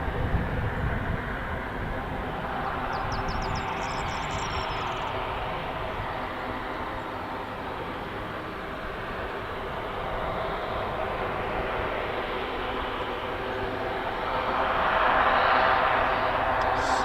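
RAF training aircraft taxi out one after another on a grass airfield, a steady distant engine drone and rumble that swells louder near the end, with faint higher whistling tones early on.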